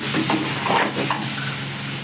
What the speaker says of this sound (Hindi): अहाँ सब देखबै छी कि हमर सबक मटन फ्राई हेतै।